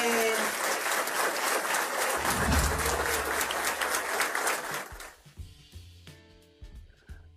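Studio audience applause on a Spanish-language TV program, a loud dense burst of clapping lasting about five seconds before it cuts off into quieter sound.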